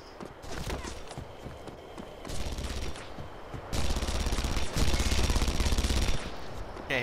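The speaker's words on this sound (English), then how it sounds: "Why are you doing the burst fire routine in a turret?" Rapid bursts of automatic turret fire from Red Faction Guerrilla, loud and close, coming in short clustered volleys that grow denser and heavier toward the end, with a low rumbling impact layer beneath.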